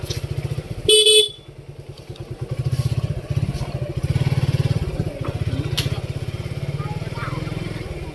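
A motorcycle rides along a market street in Singair, its engine thrumming steadily and close. A loud horn blast sounds near the start, and faint background voices carry under the engine noise.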